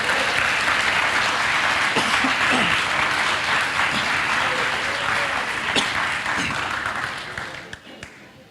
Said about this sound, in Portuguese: Você pode aplaudir a Deus pela vida do Levi?